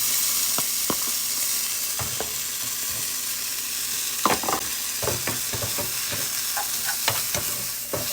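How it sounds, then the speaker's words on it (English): Peas and carrots stirred on a hibachi griddle, with a steady sizzle of frying underneath and a run of sharp spatula scrapes and taps that cluster near the end, close and fairly loud, no voices. "You just stir it. You add the peas and carrots."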